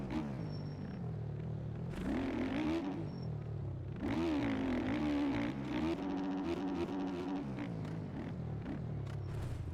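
Suzuki motocross bike engine in the MX Bikes video game on a supercross track, revving hard and repeatedly with rising and falling whining pitch, loud and close, with brief throttle drops between bursts.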